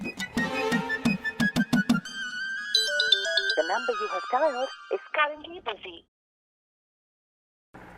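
A phone ringing and going unanswered in a comedy scene, heard as a melodic ringtone of repeated electronic tones that runs for about six seconds before cutting off into silence.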